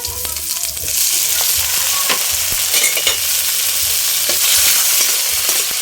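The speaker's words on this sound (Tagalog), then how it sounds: "Lalagay ko na itong kamatis." Tomatoes drop into a pan of sautéing vegetables, bringing a loud, close, continuous sizzle with sharp crackles and stirring clatter, no voices.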